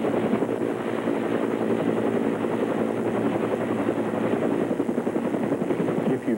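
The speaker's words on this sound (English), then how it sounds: "we're looking at unedited footage taken yesterday aboard Apache helicopter of the South Carolina National Guard" Recorded aboard a South Carolina National Guard Apache helicopter in flight over storm-damaged coast in 1989, the rotor gives a loud, constant rhythmic thudding and turbine whine close up throughout.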